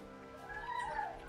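A pet cat gives a soft, drawn-out meow, faint and close, over a quiet indoor background.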